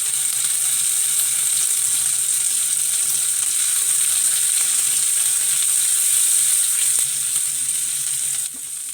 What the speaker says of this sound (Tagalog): Isunod naman nating igisa ang kamatis.